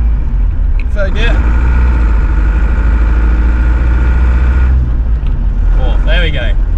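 A 1979 Range Rover Classic engine pulling in third gear, a loud continuous drone close by with a person talking over it briefly at the start and end.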